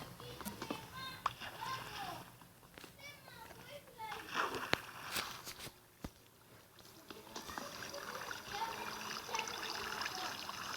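Water flows in a Minecraft survival world, a soft trickling stream running steadily beneath a child's chatter and scattered game clicks.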